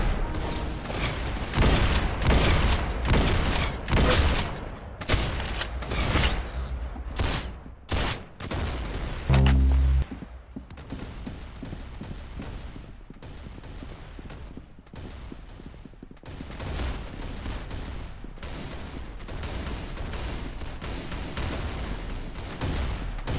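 Rapid bursts of gunfire from the Roblox game Arsenal, dense volleys of shots crowding the first ten seconds, then steadier mechanical firing and clatter continuing loudly with no talk.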